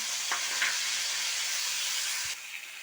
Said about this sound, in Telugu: టమాటా బాగా ఫ్రై అయిపోయింది